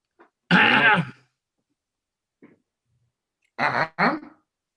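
A single throaty cough rings out clearly against silence, followed a few seconds later by a faint short noise and then two quick, rougher coughs.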